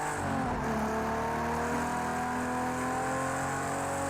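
Ferrari 250 Testa Rossa racing engine in Project Cars 2 roars loud and close, dropping through gears with pitch falling on the downshift, then holding a strained, rising rev as it pulls hard through the corner.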